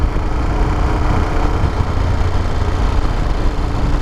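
A Moto Guzzi Stelvio motorcycle engine turns over at low revs, a steady, close, unbroken rumble with no talking.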